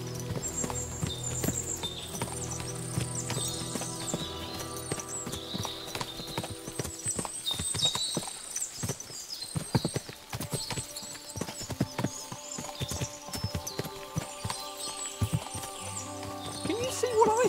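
Horse hooves clip-clopping in a steady patter over the music of Kingdom Come: Deliverance II, several horses moving at a walk.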